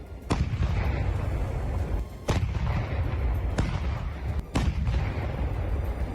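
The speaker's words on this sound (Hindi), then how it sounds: "रूस की तोपें ऐसी गरजती दिखी मानो यूक्रेन का खून पीने के लिए तड़प रही हों" Russian artillery cannons in Donbas fire four heavy booms at intervals of one to two seconds, each a sharp blast over a constant rumbling background.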